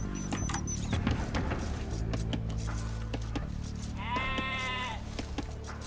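Sheep bleat in an Age of Empires II game, a wavering harmonic call rising over steady background music and game sounds for about a second near the end.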